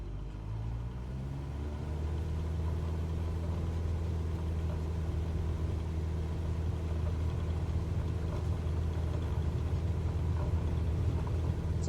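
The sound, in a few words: Cessna 172 aircraft engine starting to taxi and take off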